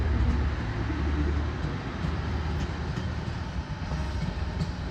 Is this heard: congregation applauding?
no